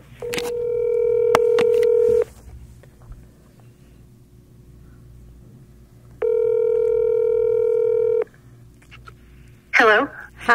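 Telephone tones placing a recorded phone call: two separate steady electronic tone bursts of about two seconds each, clear and close, with a few short clicks and a brief voice near the end.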